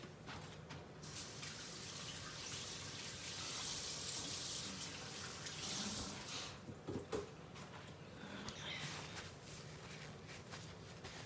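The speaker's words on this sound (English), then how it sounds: "let me wash my hands." Tap water runs steadily into a kitchen sink as hands are washed, a soft continuous gush with small splashy shifts partway through, fairly quiet and with no one speaking.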